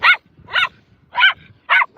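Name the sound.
dog barking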